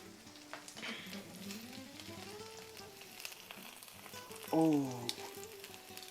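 Birria tacos sizzle softly and steadily in a pan while a voice speaks over them, with a brief louder burst of frying near the end.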